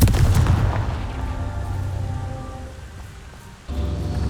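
The Confringo blasting spell from Hogwarts Legacy bursts with a loud explosive roar that decays into a crackling rumble, then another blast kicks in at the end.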